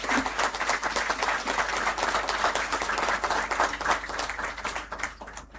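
An audience at a moot court prize distribution ceremony applauds. The clapping is full and steady with many hands, holding even for several seconds before tapering slightly at the end.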